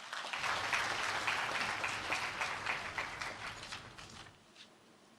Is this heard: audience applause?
yes